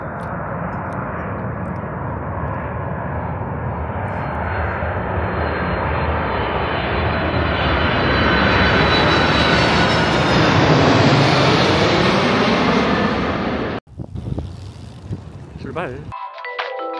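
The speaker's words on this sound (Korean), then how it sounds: "비행기가 오고 있는 것 같은데?" An airplane passes overhead, its engine roar swelling steadily over about thirteen seconds and then cutting off sharply, followed by quieter background sound.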